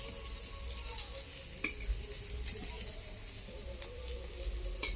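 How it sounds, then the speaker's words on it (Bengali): Fish roe fritters sizzle steadily in hot oil, a continuous close frying hiss with faint scattered crackles. "ভালো করে ভাজা হচ্ছে, খুবই সুন্দর করে শক্ত করে ভাজতে হবে যাতে ভেতরটা কাঁচা না থাকে।"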